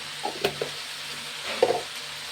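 Spoon strokes scrape a pan as turmeric and spices are mixed into frying food, a few short stirring sounds over a soft continuous sizzle.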